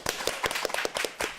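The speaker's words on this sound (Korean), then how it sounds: "오늘 함께 해주신 저자님께 정말 큰 박수 좀 부탁드리겠습니다" A small studio audience on a book talk show claps for the author, a sparse scattering of distinct, close hand claps in an uneven rhythm, fairly quiet overall.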